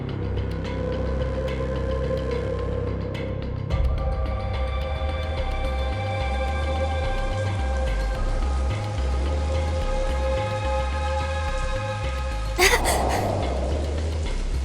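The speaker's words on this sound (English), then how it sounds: "Just started raining over here." Steady rain in the video game Soul Hackers 2 patters continuously over a low droning hum with sustained tones, ending in a brief louder swell.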